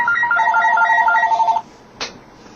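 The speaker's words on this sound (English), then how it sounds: "Would you believe it? The phone's ringing." A telephone rings indoors in a rapid trilling electronic burst lasting about a second and a half, loud and close, followed by a short click.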